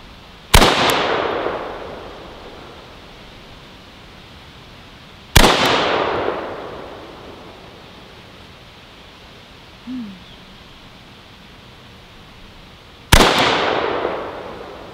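Rifle gunshots from an AR-15 and an AK fired outdoors: three loud, sharp cracks spaced several seconds apart, each followed by a long rolling echo, with a faint brief sound between them.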